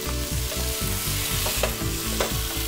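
Paneer tikka ingredients are stirred together in a sizzling pan, with repeated scraping strokes in a steady rhythm over a constant close frying hiss and no voices.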